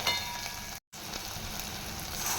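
Chilli, turmeric and asafoetida powder stirred into hot oil in a frying pan give a steady close sizzle with one brief dropout, no talking heard.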